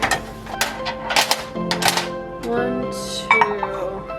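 Ceramic bowls clink and knock together in quick, uneven bursts as they are stacked and counted while decluttering, close and fairly loud, with a voice counting over them.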